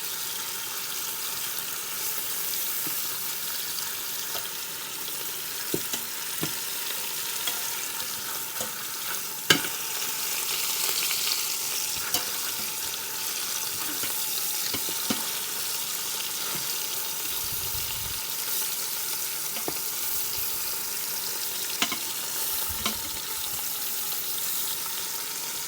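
Beef short ribs searing in an Instant Pot, a steady soft sizzle with occasional clicks and taps of utensils throughout, quiet and continuous.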